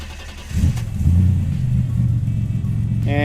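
A Buick Grand National engine fitted with a TR6 ignition idles with a steady low rumble, briefly revving up near the start, then settling into a continuous drone.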